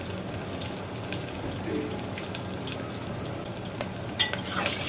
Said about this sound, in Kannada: ಫುಲ್ಲು ಬ್ರೌನ್ ಆಗಲಿ ಫ್ರೈ ಮಾಡ್ಕೊಳ್ಳಿ